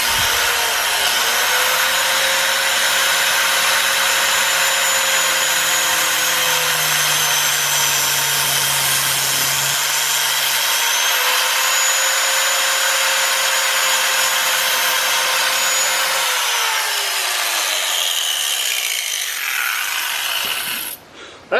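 A power tool cuts through braided stainless steel fuel line, a steady loud whine with a falling pitch sweep that runs about ten seconds, pauses, then starts again before winding down near the end.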